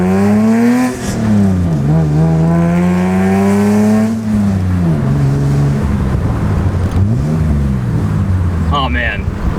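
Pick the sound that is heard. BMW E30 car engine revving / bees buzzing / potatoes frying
BMW E30 car engine revving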